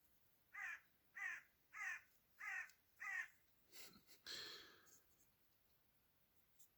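Five evenly spaced, loud crow caws ring out close by, followed by a softer rustle and a drawn-out scratchy call near the end.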